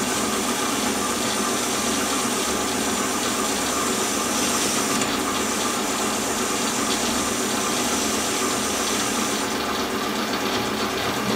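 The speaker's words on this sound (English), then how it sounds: "clamp my bed slide and take a facing cut." A metal lathe takes a facing cut on a toolpost grinder part, giving a steady, continuous machining whir and hiss at an even level throughout, with no talking.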